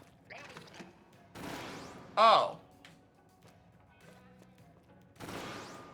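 The Trizooka special weapon fires and explodes in a video game as a few sharp, noisy bursts spaced apart, with a short vocal exclamation between them.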